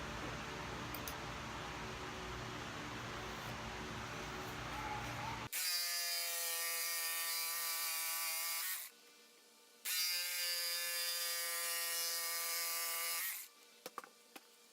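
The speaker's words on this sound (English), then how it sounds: "then you come in with your saber saw and just cut a line through there" A saber saw whines loudly through wood in two long bursts with a short pause between, after a stretch of duller rough noise, while shaping a tapered mallet head.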